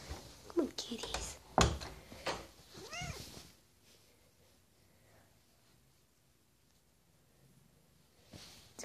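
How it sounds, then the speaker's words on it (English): A house cat meows several times up close, with drawn-out, rising cries and some rustling, then goes quiet, with another brief sound near the end; people talk nearby. "It's a good cat."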